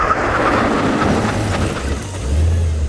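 A Brabus car makes a full emergency stop from 60 mph, a loud, steady roar of road and wind noise with a low engine drone as the car slows, heard without speech.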